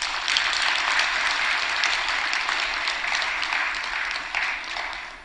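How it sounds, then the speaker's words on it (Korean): A church congregation claps for the choir during a service, steady dense applause filling the sanctuary from start to finish with no talking over it. "찬양대 위에 박수"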